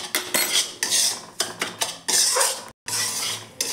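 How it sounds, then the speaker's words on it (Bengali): Semolina and gram flour being stirred in a pan of ghee, a spoon scraping and clinking against the metal in quick bursts with brief pauses, close and clear. "বেসনটা ভালো করে নাড়াচাড়া করে নেব।"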